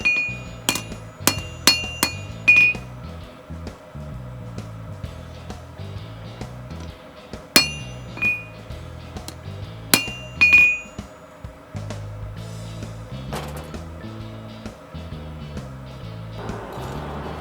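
Hammer blows straightening a forged steel nose punch ring out as sharp metallic clinks, clustered in quick bursts of several strikes separated by pauses, close and fairly loud over a low background hum.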